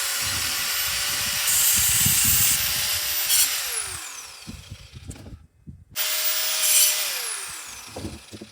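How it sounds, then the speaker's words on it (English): A garden hose sprays water over cut pieces of dead cholla cactus wood outdoors, a steady loud hiss that cuts out briefly and restarts, with knocks and rubbing handling sounds underneath. "I'm gonna hose them off a little bit."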